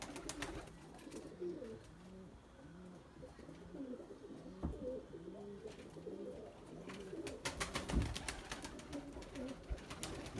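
Pigeons coo in repeated soft, low, rounded calls during an outdoor flying session with a white pigeon, with occasional clatters and rustles mixed in.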